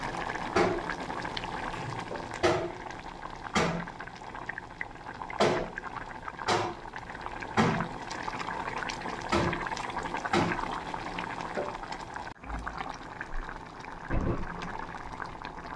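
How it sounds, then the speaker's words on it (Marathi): Sugar syrup for a raw mango sweet bubbles in a pot, a steady simmering wash broken by sharp pops and bursts every second or so, close and fairly quiet. "साखरेचा पाक तयार होत आहे बघा कसं उकळत आहे"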